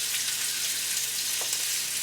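Polska kielbasa sausage browning in a hot pan, a steady bright sizzle and crackle of frying fat that stays even and close throughout.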